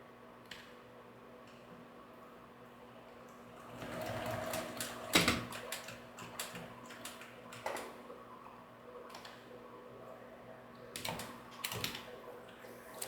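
A sewing machine stitches the corners of fabric in short, close bursts of rapid ticking, stopping and starting with small clicks and handling noises between runs.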